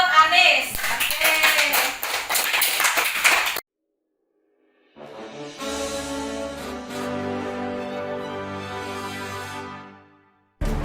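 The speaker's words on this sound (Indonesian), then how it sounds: "Berikan tepuk tangan untuk Anis." Classroom applause during an Indonesian school supervision session comes as a short, loud burst of clapping that cuts off abruptly, followed by a pause and then a stretch of sustained tonal sound.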